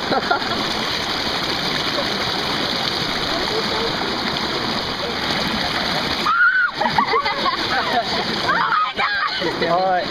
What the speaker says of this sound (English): about to stick my head in this freezing ice cold water